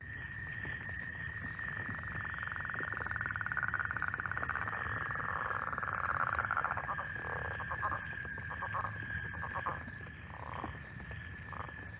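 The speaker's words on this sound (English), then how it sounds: "that's the northern leopard frog" A northern leopard frog calls from a wetland in the Rouge River watershed, a low snore-like grating croak that repeats in uneven pulses under a steady high insect drone, faint and fairly distant.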